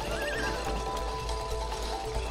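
A horse whinnies in a video game with a wavering, rising and falling call over a steady, busy background hum, lasting a couple of seconds.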